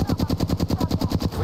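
Rapid automatic gunfire from the Apex Legends video game rattles in a steady, evenly spaced burst of about a dozen loud, close shots.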